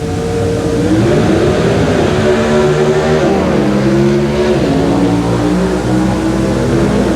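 1976 NHRA World Finals Pro Stock drag race with a Ford Pinto and another car running carbureted gasoline engines, a loud, continuous roar that rises through gear shifts for the whole run.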